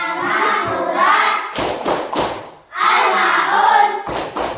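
A classroom plays the Tepuk Al-Ma'un rhythmic clapping game: a group chants, then breaks into bursts of quick, loud hand claps, twice in alternation.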